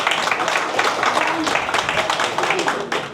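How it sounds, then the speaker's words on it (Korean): An audience at a dance academy club's spring family festival in Busan claps in a dense, steady burst, loud and close, with faint voices mixed into the applause. "큰 박수 부탁드리겠습니다"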